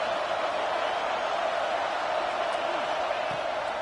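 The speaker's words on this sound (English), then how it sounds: "Neyland Stadium alive, a cauldron of orange noise on third down" Roaring home crowd at Neyland Stadium on third down in the NCAA 26 football video game, Florida State at Tennessee; a constant, dense wash of loud crowd noise fills the whole clip with faint voices buried in it.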